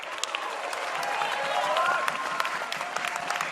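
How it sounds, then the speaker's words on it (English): Home fans at a rugby league match applaud in a sustained wash of clapping from a crowd, swelling slightly in the middle, with a commentator's voice running over it. "That's the applause you can hear from the home fans"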